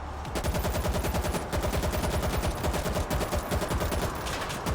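Rapid, sustained machine gun bursts in the zombie shooter World War Z, a dense rhythmic stream of shots running almost continuously with one short break, loud and close with no talk over it.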